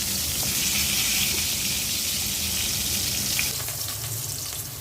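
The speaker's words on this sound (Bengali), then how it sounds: "মাছগুলো ভেজে নিব।" Fish frying in oil in a pan with turmeric and dried chili, a steady close hiss and sizzle that eases slightly toward the end.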